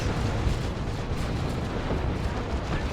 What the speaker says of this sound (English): Grenade Barrage.